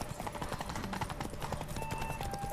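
Hoofbeats of the horse Roach galloping in The Witcher 3: Hearts of Stone, a steady rapid clip-clop rhythm at moderate level with no talk, ending in a sharp brief tone.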